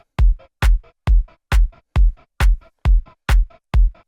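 Offbeat volume-ducking pumping effect in an EDM production, used as a hi-hat: nine evenly spaced, loud rhythmic pulses over a low bass thump, each swelling and cutting off sharply in a steady groove.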